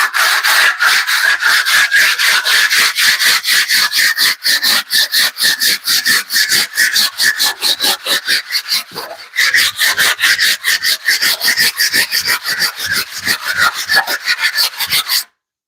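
A shower pan float and trowel scraped clean in fast, rhythmic back-and-forth rasping strokes, loud and close, with one short pause partway through.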